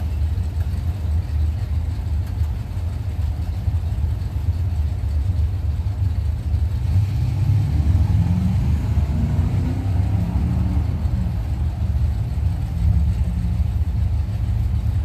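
A 2000 Chevrolet S10 drag racing down the track at a Blue Oval Battle event, its engine a steady low rumble that swells and rises in pitch as it passes, heard from a distance amid ambient noise.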